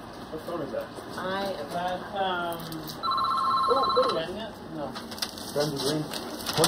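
Telephone ringing in an office during a 2001 New York mayoral election campaign, a steady electronic trill lasting about a second amid background chatter and voices.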